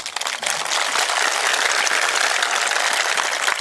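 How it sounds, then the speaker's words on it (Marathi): Crowd applause at a political rally: a dense, steady wash of clapping that swells in after a brief uneven start and holds at full strength for several seconds, with no voice over it. "त्यांचंही आपण या ठिकाणी टाळ्याच्या गजरात, ह्या आपल्या टाळ्या वाटत नाहीत"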